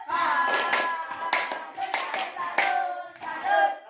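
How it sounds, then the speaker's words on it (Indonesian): A group of schoolchildren in a classroom claps in a quick patterned rhythm, several bursts of hand claps with voices chanting along. "berikan tepuk salut untuk kelompok burung elang"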